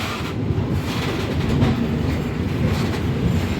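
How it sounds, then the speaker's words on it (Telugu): A goods train of tank wagons rolls past alongside a moving passenger express leaving Yelamanchili station, a loud, continuous rumble with rhythmic clickety-clack of wheels close by. "మనకు పక్కన గూడ్స్ వెళ్తుంది."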